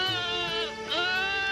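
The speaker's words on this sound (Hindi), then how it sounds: "इतनी रात गए मेरी बकरी इतना चिल्ला क्यों रही है?" A goat bleats loudly at night in a cartoon scene, a sustained wavering cry with a rising second call, close and prominent.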